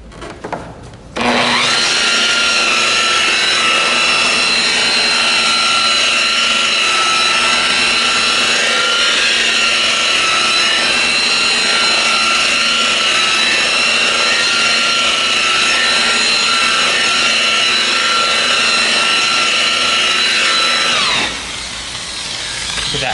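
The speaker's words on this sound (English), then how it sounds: "I'm polishing it. Now, it isn't all the way done, so I'm gonna go a little bit further with this compound." A power polisher runs steadily with compound on the interior of a Kawai KG6 concert grand piano, a loud continuous whirring buzz that holds for about twenty seconds before spinning down.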